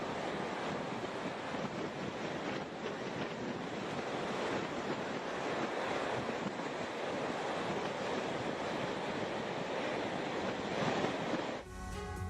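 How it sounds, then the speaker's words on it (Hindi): Strong sea waves crashing on Tunisia's west coast during a powerful storm, a constant loud roar of surf mixed with gusting wind buffeting the microphone, ending abruptly in a short different sound. "पश्चिमी तट पर उठी तेज लहरें"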